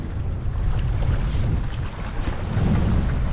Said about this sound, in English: unfortunately it's too windy